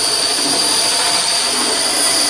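A model railway Percy locomotive on a standard 0-4-0 chassis whines with a faulty motor, a loud, steady high-pitched squeal holding continuously with no talk.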